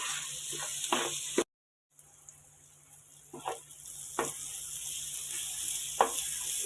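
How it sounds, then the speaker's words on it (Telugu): Ginger garlic paste frying in a pan for egg curry: a steady, hissing sizzle that runs throughout, with occasional scraping stirs and a brief cut-out partway through. "పచ్చి వాసన పోయేంత వరకు మనం ఫ్రై చేసుకోవాలి."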